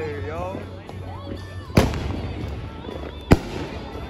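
Fourth of July fireworks in Staten Island, New York: two sharp, loud bangs stand out over a steady crackle and rumble of distant bursts, with people talking nearby throughout.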